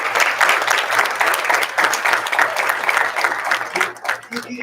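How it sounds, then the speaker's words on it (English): Audience applause greets a veterinary assistant teacher at a shop awards event: dense, steady clapping from a crowd that thins out near the end, with a low hum underneath. "let's give him a round of applause"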